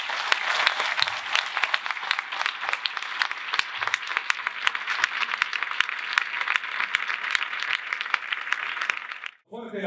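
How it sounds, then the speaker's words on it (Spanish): Sustained applause from a conference audience at the closing of an education congress, dense overlapping clapping filling the hall steadily for nearly ten seconds, then cutting off abruptly as a voice begins at the very end. "Fuerte el aplauso para la presidenta de AIEDPA"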